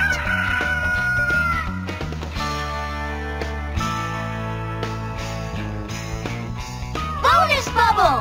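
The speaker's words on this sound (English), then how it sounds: "A chicken." A cartoon chicken clucks and crows over game music in a Bubble Guppies farm bubble-popping game, with a short, bright call under light voice activity.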